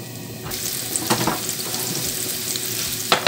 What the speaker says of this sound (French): je vais y ajouter mon oignon que j'ai coupé en petits morceaux